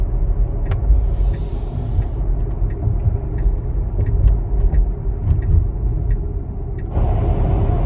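Steady road roar and tire hiss inside a Tesla Model X cruising onto Interstate 26 eastbound, with occasional faint clicks and a brief airy hiss rising and falling.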